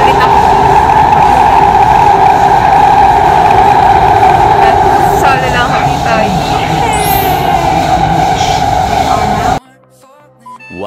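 A metro train runs with a loud, steady rumble and a strong droning hum, with brief squealing near the end before it cuts off abruptly. A voice speaks over the train noise.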